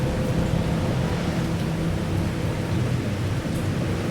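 Dense, steady rumble of heavy rain with a low thundery roar underneath, constant and enveloping throughout, no voices.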